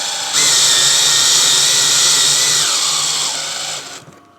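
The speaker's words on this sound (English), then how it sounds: "I'm going to change up the drill to more power." Power drill boring into a wall to mount an electric car wall connector, a loud continuous high-pitched whine that starts suddenly, holds steady for about four seconds with a slight pitch drop near the end, then stops.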